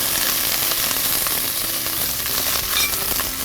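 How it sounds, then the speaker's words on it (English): Onions sizzle loudly and steadily in a pan for Thai green curry, a dense close crackle with faint occasional stir sounds. "I'm going to start off with the onion. It's got a nice sizzle."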